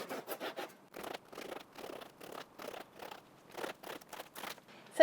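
A knife sawing partway through a baguette, a run of dry, crackly scraping strokes in short repeated bursts, close and fairly quiet with no talk.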